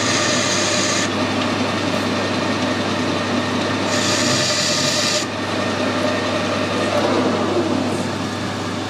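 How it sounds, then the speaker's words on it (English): A lathe tool chamfers the edges of a motorbike wheel bush over a steady machine hum, with a bright scraping cut that starts and stops in two bursts. "I'm going to put a nice little chamfer on these two edges"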